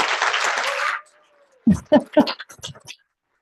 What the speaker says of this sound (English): Please, big applause for Wietske.